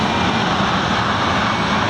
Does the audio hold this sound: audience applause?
no